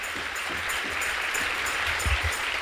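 Steady applause from a church congregation, a dense wash of clapping that holds at an even level throughout with a few heavier low thumps.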